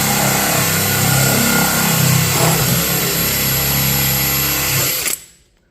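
Hole saw drilling through fiberglass, a loud continuous high-pitched grinding whine with rough tearing texture that cuts off abruptly as the power tool stops, very close.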